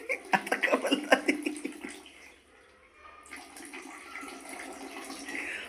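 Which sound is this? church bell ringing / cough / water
water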